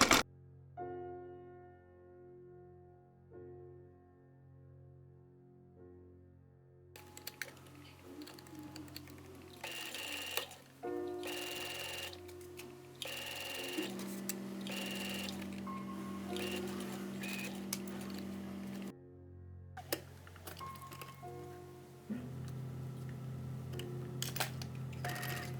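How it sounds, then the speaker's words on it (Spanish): A sewing machine stitches piping onto a winter coat lining in several runs of rapid mechanical whirring, broken by quiet pauses and a few short clicks. "Cose el vivo a 1 centímetro de lado a lado."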